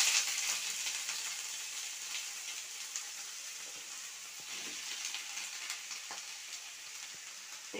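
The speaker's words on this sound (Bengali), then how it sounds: "কড়াইতে আমি সয়াবিনগুলো একটু তেল দিয়ে ভালো করে ভেজে নেব।" Soybeans frying in oil in a wok, a steady close hiss and crackle of bubbling oil with scattered pops and spits, continuous throughout with no voices.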